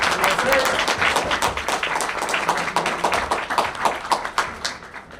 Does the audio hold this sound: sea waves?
no